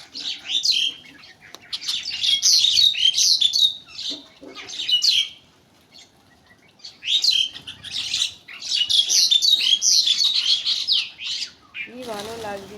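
A large flock of birds gathering to feed chirps and tweets in dense, overlapping bursts, loud and close, with two short lulls. A brief voice calls out at the very end.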